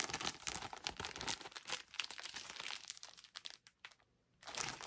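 Plastic sleeves crinkling and rustling as they are handled, a close series of irregular crackly bursts that briefly drop away near the end before resuming.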